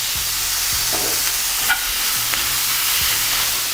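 Onions and peppers sweat in a pan with a light pinch of salt for pepper steak, a gentle, even sizzle with occasional low thuds and scrapes of stirring, close and steady with no voices.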